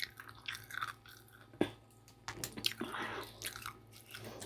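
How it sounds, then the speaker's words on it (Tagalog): Someone chews a last bite of balut up close, with soft wet squishes, smacks and a few crunchy bites scattered irregularly, quiet and without talk. "Mag-last bite ako sa balot."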